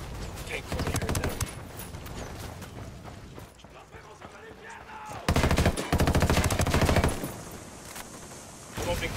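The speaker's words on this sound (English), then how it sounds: "I'm opening fire on these shitheads." Video game gunfire from Ghost Recon Wildlands: rapid bursts of automatic weapon fire, loud and dense, with a lull in the middle before heavier volleys resume, with a voice talking over the shooting.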